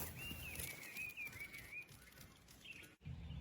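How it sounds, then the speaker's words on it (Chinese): A Chinese hwamei laughingthrush sings a single clear, warbling whistled phrase outdoors, soft and moderately distant, with no one speaking. "又遇到画眉了，这叫声真好听啊！"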